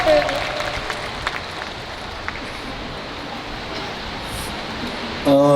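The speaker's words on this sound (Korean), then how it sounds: "박정민 배우님께 박수 부탁드리고요" Audience applause for actors at a film press event, a soft, steady patter of clapping that sits under brief voices, ending as talk resumes.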